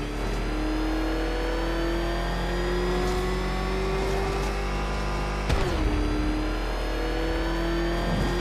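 Revving Batmobile engine from Batman: Arkham Knight, a steady loud mid-pitched drone climbing gradually in pitch, with a brief dip and jolt midway before it settles and keeps roaring alone.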